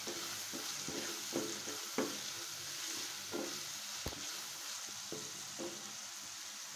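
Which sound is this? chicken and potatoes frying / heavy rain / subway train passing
chicken and potatoes frying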